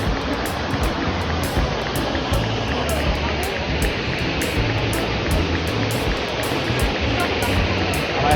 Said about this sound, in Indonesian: Kita sudah sampai di air terjun Jumuk.